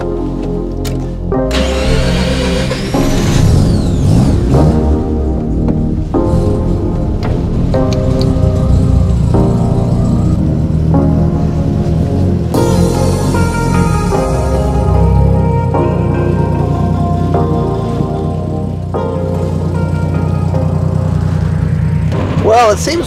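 A turbocharged Mazda RX-7 FC drives and accelerates, its engine note climbing and dropping through gear changes with loud, continuous tonal drone and wind noise from inside the car.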